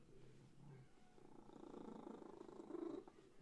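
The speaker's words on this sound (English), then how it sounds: "He has a very loud purr." A pet cat purrs loudly and steadily up close, a continuous rumbling drone that swells slightly louder toward the end, with no talking over it.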